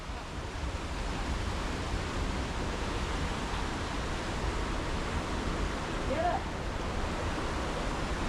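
Steady broadband rush of the waterfall at Gunjiwada Tarabu, a constant roar of falling water that fills the scene without letting up.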